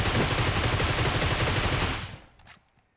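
Rapid automatic gunfire from the mobile battle royale game PUBG Mobile, a loud sustained burst of dense repeated shots for about two seconds, cutting off into a short fading tail with a couple of faint clicks.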